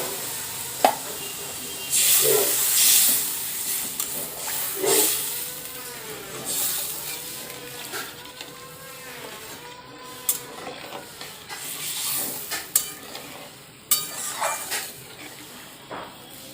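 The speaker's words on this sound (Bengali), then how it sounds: "ঝোল দেখুন খুব ভালোভাবে ফুটে গেছে।" Fish curry gravy of spiced oil and water with drumsticks and potatoes bubbling in a pot, a hissing simmer with irregular bubbling pops and gurgles, close and moderately quiet, without talking.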